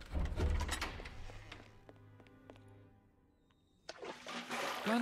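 Water scooped and poured with a basin or pot in a Sherlock Holmes video game, heavy watery slosh and splash at the start, then quiet clinks and a few taps, with another burst of water near the end.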